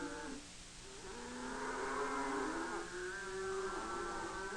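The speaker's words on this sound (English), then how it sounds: "The cattle graze and rest during the night, but at daybreak, the herd is on the trail once more." A herd of half-wild cattle on a trail in Paraguay lowing, overlapping drawn-out moos from several animals forming a continuous chorus at moderate distance.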